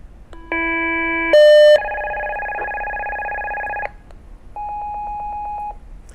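A Ritron portable radio sends a two-tone signal to a gate call box, giving steady electronic tone pairs: a held dual tone, a higher brief tone, a longer pair, then a pulsing tone after a pause, clear and close.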